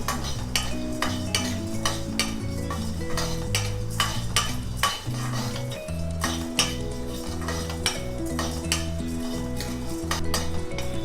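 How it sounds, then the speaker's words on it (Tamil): Ginger and garlic stir-fried in a pan: a spatula clinks and scrapes against metal in quick, repeated strokes under prominent background music, with only a faint sizzle. "இஞ்சி பூண்டு சேர்த்து லைட்டாக சூடு இருந்துமே நம்ம வறுத்துடலாம்."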